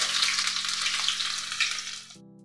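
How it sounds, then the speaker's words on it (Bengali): Chopped onions fry in hot mixed white and mustard oil with black cumin, giving a steady loud sizzle that stops abruptly near the end. "এবার আমি দিয়ে দেবো পেঁয়াজ কুচি"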